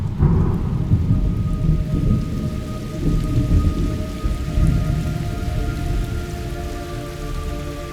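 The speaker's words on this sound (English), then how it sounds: "It's raining blood." Heavy rain in the video game Metal Gear Solid Delta: Snake Eater pours steadily with a deep rumble of thunder underneath, continuous and fairly loud, with no voices.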